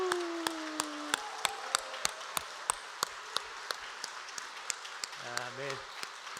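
A church congregation claps during a Sunday worship service at Gumi Gangdong Church, sharp even beats in steady unison over a softer bed of scattered applause, with a voice singing or speaking briefly near the end.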